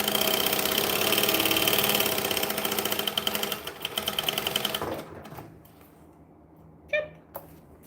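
A sewing machine top stitches a bag in a fast, even mechanical chatter for about five seconds, then stops, leaving faint handling clicks and a short squeak.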